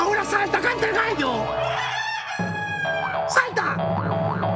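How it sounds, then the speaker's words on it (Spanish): A rooster crows loudly over busy, layered background noise, with a second crowing call rising near the end. "¡Ahora salta, canta el gallo!"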